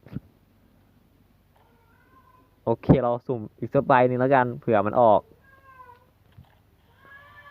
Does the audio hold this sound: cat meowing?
yes